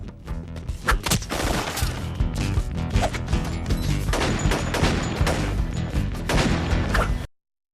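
A knife and gun fight scene in the movie Desperado erupts in dense, loud gunfire, with rapid overlapping shots, crashes and impacts mixed with score, before cutting off abruptly.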